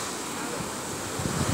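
Surf rolls in at Wambar Beach in Fakfak, West Papua, a steady broad wash of waves with wind buffeting the microphone and a slightly louder swell near the end.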